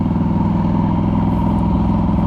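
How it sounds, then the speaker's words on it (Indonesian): A Norton Commando 961 SF MK II motorcycle engine idles steadily up close, a deep, even thrum running unbroken with no talk over it. "Norton Komando 961 SF."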